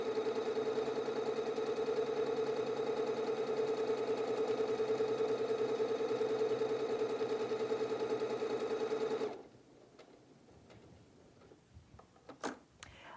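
A Pfaff Quilt Ambition 2.0 sewing machine stitches out a buttonhole in a loud, steady whirring run lasting about nine seconds, then stops abruptly, leaving quiet handling clicks.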